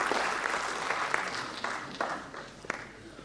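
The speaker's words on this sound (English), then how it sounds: "So huge round of applause for those 850 people who have joined today, both sitting here and online." Applause from a large audience at a university foundation day event, a soft, fairly distant ripple of many hands with a few sharper claps standing out, gradually thinning out.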